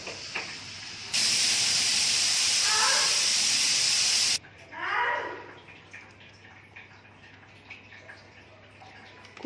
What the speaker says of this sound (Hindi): टाइम पूरा हो गया। अब हम कुकर को खोलते हैं,